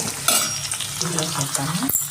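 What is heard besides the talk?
onions frying in oil with curry leaves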